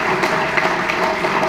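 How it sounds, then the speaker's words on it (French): An audience at a televised event applauds in a dense, steady wash of clapping, loud and continuous for the whole short stretch with no talk over it. "qu'on va applaudir parce que c'est un homme genré."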